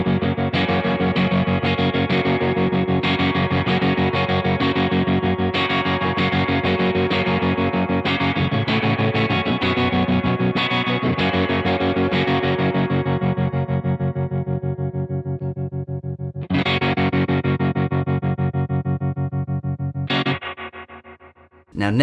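Electric guitar played through a harmonic tremolo pedal with a real spring reverb, sounding a dense, sustained, distorted wash of chords that swells and ripples, then breaks off into two short restruck bursts with trailing reverb near the end.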